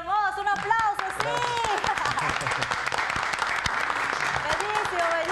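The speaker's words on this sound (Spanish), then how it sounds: "un aplauso, sí" Audience applause after a song on a Spanish-language TV program, moderate clapping running steadily beneath a voice, which comes through over the claps.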